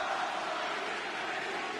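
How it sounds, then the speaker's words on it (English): A wrestling crowd in San Antonio chants for Thunder Rosa during a cage match against Dr. Britt Baker, a dense, steady roar of many voices with no break. "This crowd chanting for Thunder Rosa."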